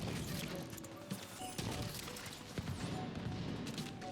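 Gunfire crackles in the shooter game The Division 2, with repeated sharp shots and impacts layered over a low, busy rumble, heard fairly faintly.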